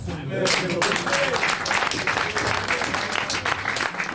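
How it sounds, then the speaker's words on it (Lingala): A theatre audience applauds loudly and steadily at a concert, dense clapping filling the hall from start to finish, with voices mixed into the crowd noise. "je vous demande de vous applaudir vous-même très fort"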